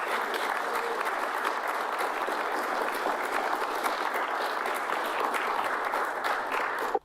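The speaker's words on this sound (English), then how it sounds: "let's give a round of applause" Sustained applause from an audience at a Rotary Club meeting, steady and dense throughout, ending abruptly at the close.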